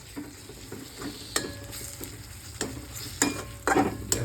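Chicken masala is sautéed in a pan with a soft background sizzle and repeated stirring scrapes and spatula knocks. The strokes are spaced irregularly and come close and fairly loud.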